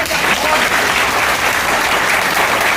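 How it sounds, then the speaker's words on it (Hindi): Audience of party workers applauding at a meeting, loud, close and continuous clapping that fills the whole clip without a break. "एक बार जोरदार सबके लिए ताली बजाइए।"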